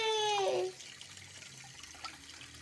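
Water runs steadily into a fish tank, a soft continuous trickle and splash heard close by, with a brief high squeak or voice-like tone at the start.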